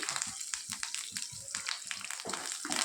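Mustard seeds, urad dal and chana dal sputter and crackle in hot oil as tempering for buttermilk rasam, with quick popping bursts over a soft, uneven sizzle; no one speaks.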